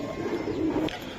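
Racing giribaz pigeon gives a steady, low cooing murmur for about a second, close and moderately loud, ending with a short sharp click.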